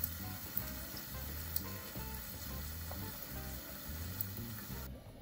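Marinated tandoori chicken breast steam-fries in a covered pan, a constant crackling sizzle with small pops and spits running steadily throughout.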